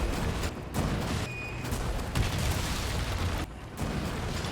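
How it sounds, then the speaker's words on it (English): Cannon fire in Resident Evil 4 comes as a dense, loud barrage of booming blasts, one hitting almost on top of the next, with brief gaps between volleys. "Anyway, boom boom, grab the cannon,"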